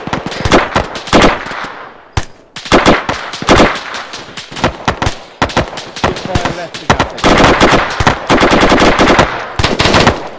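A .50 cal machine gun fires repeated loud bursts of rapid shots at a military exercise, with short pauses between strings of fire and some echoing crackle.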